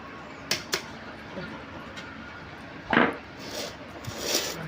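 Fried boondi is poured into a big bowl and mixed, with a few crisp clinks and a burst of rustling pour around the middle, followed by softer stirring and scraping.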